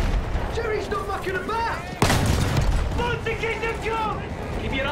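A tank's main cannon in Battlefield 1 fires a single sharp, heavy blast midway, set against ongoing battle noise and engine whine, with a voice talking over parts of it.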